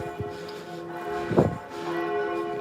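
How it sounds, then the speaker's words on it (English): Church bells ring in the distance with sustained, humming tones, while a brief louder clang or knock stands out near the middle. "Here we are, we have church bells ringing."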